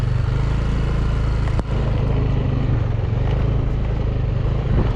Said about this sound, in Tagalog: Ayun yung mga motor eh.